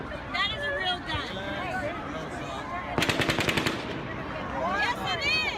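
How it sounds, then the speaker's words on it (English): Bursts of rapid automatic gunfire crack out in quick succession amid a babble of voices and background crowd noise during the Las Vegas shooting. "an unknown source of gunfire could be heard either far in the distance or inside the hotel"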